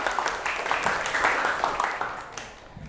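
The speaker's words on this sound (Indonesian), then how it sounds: "Tepuk tangan untuk kita semua." A school class applauds together, a lively mix of many claps with rhythmic peaks that thin out toward the end, with faint voices mixed in.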